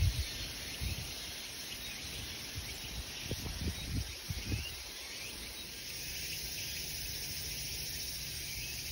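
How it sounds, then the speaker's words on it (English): At night in lower brush, cicadas and singing katydids make a dense, steady insect hiss with a high ringing whine on top, and a few soft rustling thumps early on. "You can really hear all of the insect sounds here. Those are cicadas. A lot of singing tetragoniids"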